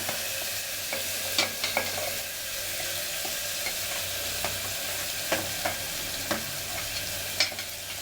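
Potatoes with curry leaves are stirred and fried in a pan. A constant oily sizzle is broken by scattered light scrapes and clicks of a spoon against the pan, close up and with no voices.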